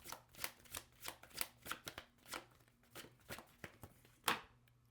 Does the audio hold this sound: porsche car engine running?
no